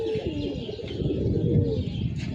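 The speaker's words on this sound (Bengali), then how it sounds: "বিকেল 5টা, কবুতরগুলো ছেড়ে উড়ালাম।" Pigeons on a rooftop give soft, low, repeated coos at close range, with a few faint chirps mixed in over a quiet background.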